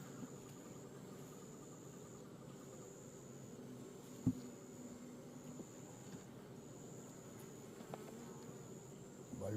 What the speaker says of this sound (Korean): 벌이 많이 퍼졌죠.